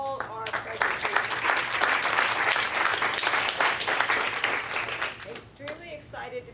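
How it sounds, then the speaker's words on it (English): A meeting audience applauds the presentations at a quarterly meeting, many hands clapping steadily and close by. The clapping fades toward the end as a voice begins to speak. "let's give another hand of applause for all our presentations"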